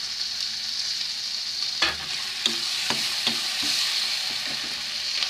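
Tomato puree cooks into frying masala for cauliflower kofta curry, producing a constant close sizzle broken by several sharp scraping strokes of a spoon stirring the pan, with no speech.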